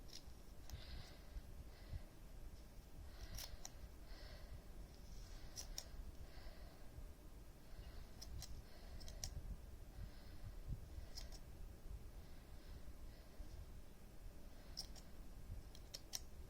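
Scissors snip open looped yarn while a pom pom garland is being made, giving faint, sparse clicks in small clusters over a quiet room background.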